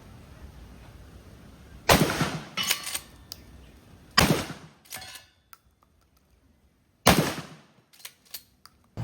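A Hunt Group MHX 12 gauge shotgun fires at a shooting range: three loud, close blasts a few seconds apart, each followed by short clattering handling noises, with quiet gaps between.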